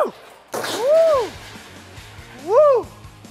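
A sharp, sudden sneeze bursts out close by, then comes a loud, drawn-out voiced exclamation and a second rising whoop, amid light background noise.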